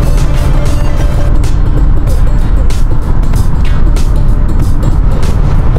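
Cadillac Escalade cruising at about 140 km/h on an Abu Dhabi highway, a loud, steady roar of engine, tyre and wind noise from inside the cabin, unbroken for the whole stretch.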